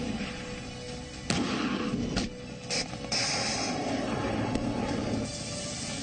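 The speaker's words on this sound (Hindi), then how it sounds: "जमीन पर मौत बरसाते टैंक और रॉकेट लॉन्चर" Heavy booms and sharp blasts from tanks and rocket launchers punctuate a dense, rumbling din of battlefield noise, several loud impacts spread irregularly across the stretch.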